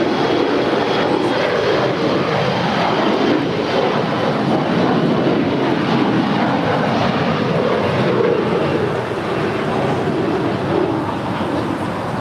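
An Air Canada Boeing 737 MAX 8 arriving from Toronto at Los Angeles airport produces a loud, sustained jet rumble with shifting low tones, close and unbroken, and no one speaking.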